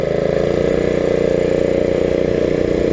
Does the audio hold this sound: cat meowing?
no